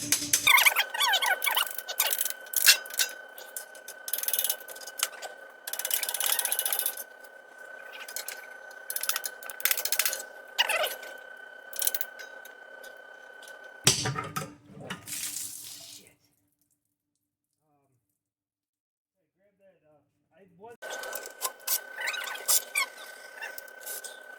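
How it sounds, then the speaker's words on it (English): Transmission fluid draining from the pan of a 2011 Subaru Outback 5EAT automatic as the pan seal is broken, a steady close pouring and trickling flow that stops abruptly, falls silent, then resumes. "what I got to do now is break the seal that's around the edge of the pan"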